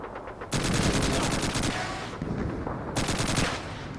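Sustained automatic gunfire from the World War II shooter Call of Duty 2, loud and close, in two long bursts separated by a brief lull filled with lower rumbling battle noise.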